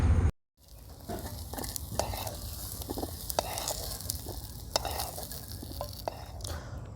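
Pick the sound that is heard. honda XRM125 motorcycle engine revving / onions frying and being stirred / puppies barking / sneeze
onions frying and being stirred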